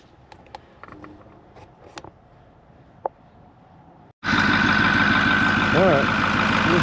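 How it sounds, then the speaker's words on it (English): A 2008 Ford F-250 with a 6.4L Powerstroke diesel cranks up after an oil change and settles into a steady, loud, close idle, following a few seconds of quiet clinks and small handling sounds. "All right, clean all the oil up. We'll crank it up"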